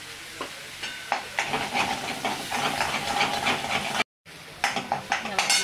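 Ground spice paste sautés in a hot pan for spinach curry, with a continuous hissing sizzle, close stirring scrapes and clinks, and a brief silent break before the frying resumes.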